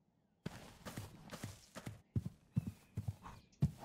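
Horse hooves clip-clopping in the Minecraft RLcraft modpack, around eight close, clear clops at an uneven walking pace following a brief silence.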